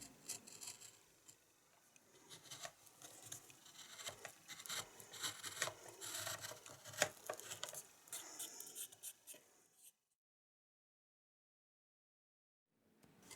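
Scraping, scratching strokes of a gouge carving goldfinch wing feathers in wood, close and continuous with irregular bursts for about ten seconds, then silence before a faint return at the end.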